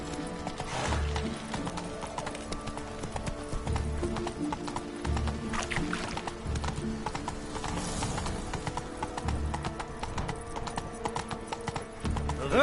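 Horse hooves clip-clop in a steady, rhythmic gait during The Witcher 3, moderately loud and continuous, with sustained tones beneath them.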